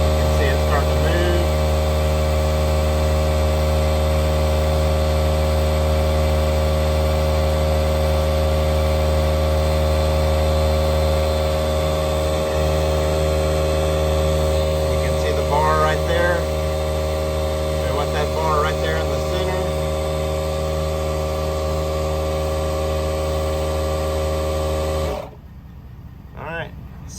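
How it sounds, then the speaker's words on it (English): A small air compressor inflating a Reese 20K gooseneck hitch hums in a steady, loud drone with a constant mechanical whine, running without pause for about 25 seconds before cutting off abruptly. "got my little air compressor here"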